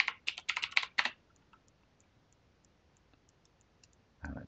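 A computer keyboard clicks crisply as a password is typed at a quick pace, followed by a near-silent pause and a final louder keypress.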